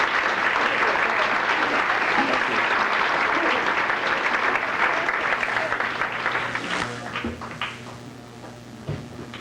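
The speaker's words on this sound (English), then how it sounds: "I think it'd be nice to give a nice round of applause to Valentino's for this fine meal" A banquet audience applauds a restaurant's meal at a high school football banquet, dense sustained clapping that fades toward the end, leaving scattered claps and room noise.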